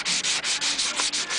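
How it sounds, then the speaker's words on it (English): Sandpaper rubs over a lacquer base coat on a guitar body in steady back-and-forth strokes, about seven even rhythmic swishes, close and clear with no talking. "To sand down this lacquer, as this lacquer I've used for its base coat"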